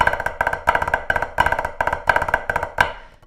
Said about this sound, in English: Float 5 sound like this.